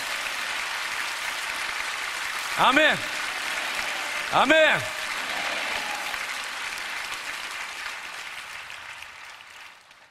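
A church congregation applauds in praise of God during a worship service, with broad steady clapping filling the room while two short bursts of voices saying amen rise above it.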